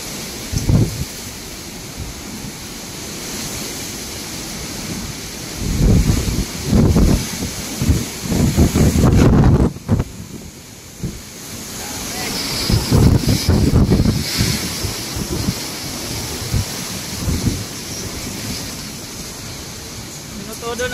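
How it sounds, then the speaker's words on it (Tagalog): Strong typhoon wind from Super Typhoon Rolly roars and buffets the microphone in heavy, surging gusts, with louder bursts midway and again later, and people talk intermittently beneath it. "Todo na ang hangin."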